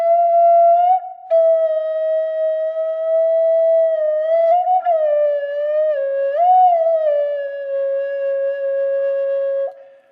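Native American flute plays a steady breathy tone with fingers moving over the finger holes, one long note sliding and bending in pitch across several phrases. It is close and loud, with a brief break near the start, and no voice.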